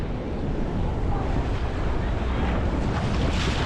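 Ocean waves breaking at a beach in Playa del Carmen, a loud continuous roar of surf mixed with strong wind buffeting the microphone, with no distinct individual breaks.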